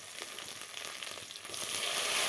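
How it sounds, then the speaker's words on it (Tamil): Ground masala paste hits hot oil with mustard seeds in a pan, giving a steady frying crackle that swells into a louder, fuller sizzle partway through, with no voices. "இப்போ அரைச்சி வச்சதெல்லாம் சேர்த்துக்கலாம் எண்ணெயில்."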